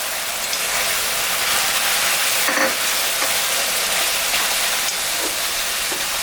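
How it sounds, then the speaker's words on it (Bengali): Onion and a spice paste of dried chilli, ginger, cumin, salt and turmeric fry in a pan, a loud, steady close sizzle with occasional stirring scrapes and no talk. "মশলাটা ভাজা ভাজা হয়ে গেছে,"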